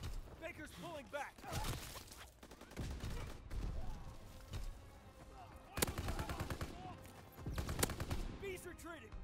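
Video game combat plays rapid bursts of machine-gun fire and heavy gunshots in repeated volleys at close range, with game voices calling out orders between the bursts.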